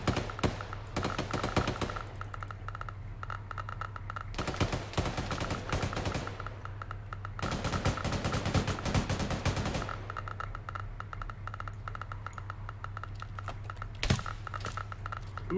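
Video game gunfire in bursts of rapid shots, loud dense stretches separated by quieter gaps, ending with a single sharp shot, set in a radiation zone.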